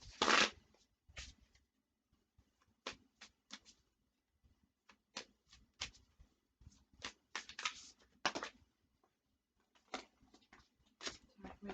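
A deck of tarot cards is shuffled close up, giving soft riffling bursts and flicks in uneven clusters with quiet gaps between them.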